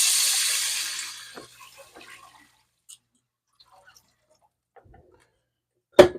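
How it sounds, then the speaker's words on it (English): Water pours into a soup pot for chicken tortilla soup, a steady rushing stream for the first second or so that trails off, followed by faint clinks and a sharp knock at the end. "So we're going to put in our water"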